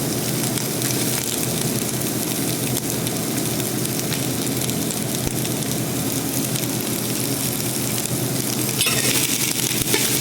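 Garlic and red onion sizzle in a pan for Ilonggo-style chicken, a loud, steady, close frying crackle that holds unbroken for the whole stretch.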